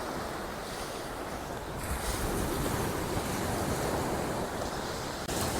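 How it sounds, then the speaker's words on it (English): Early-morning waves wash onto Folkestone beach in a continuous broad rush. The surf swells slightly at about the two-second mark, with light wind noise on the microphone throughout. "There's the outer edge, then you get the wash coming in, then the next wave,"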